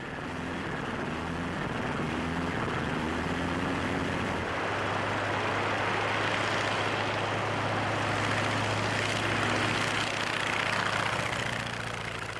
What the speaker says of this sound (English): Eventually, the crew gets the Sopwith Camel airborne.